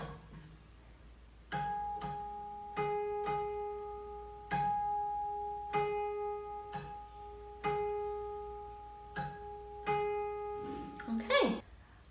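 A guqin's sixth string plucked repeatedly while being tightened during tuning, each pluck ringing out with sustained harmonic overtones at an unhurried pace in a quiet room, ending with a brief rustle.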